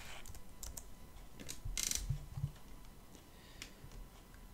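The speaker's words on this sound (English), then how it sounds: "Open your browser and type Kaspersky." Typing on a computer keyboard while opening a web browser, a sparse run of quiet clicks and taps with a brief louder flurry of keystrokes near the middle, over a faint room hiss with no talking.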